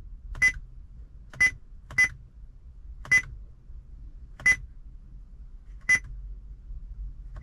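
Short, sharp electronic beeps from a steering-wheel source button on the car stereo of a 2007-2014 Nissan Qashqai sound seven times at irregular intervals over a quiet hum.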